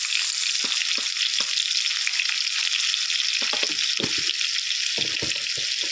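Chicken pieces with spices sizzle hard in hot oil, a loud, constant frying hiss with scattered pops and crackles and occasional stirring sounds, no voices.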